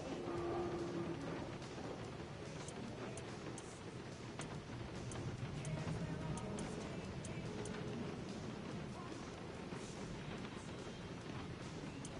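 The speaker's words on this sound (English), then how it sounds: "It had to be raining." Rain and thunder in the Guardians of the Galaxy video game, a steady dense downpour with low rumbling under it, fairly faint and continuous without speech.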